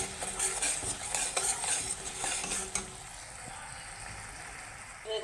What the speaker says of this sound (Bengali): এবার এর মধ্যে দিয়ে দেবো টমেটোর পেস্ট, আবারও ভালোভাবে কষিয়ে নেব।